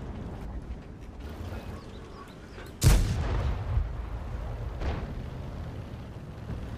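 A single loud tank cannon shot from an American T42 medium tank in World of Tanks rings out near the middle, followed by a fainter second boom, over a low engine rumble.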